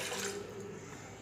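Water poured into ground rice flour in a home kitchen for poovada batter, a faint, close, continuous trickling pour with a soft splashy start that settles into a steady low stream.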